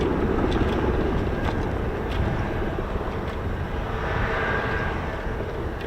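Spanish Eurofighter Typhoon fighter jet at an air show arrivals day at RAF Fairford, a loud, steady broadband jet roar filling the whole stretch without a break.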